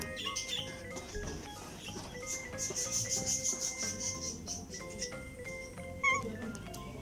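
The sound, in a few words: wild cat calling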